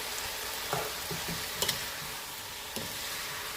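Jerk-seasoned oxtails sizzle steadily as they brown in a pan, a continuous close crackle broken by a few sharp pops and stirring clinks.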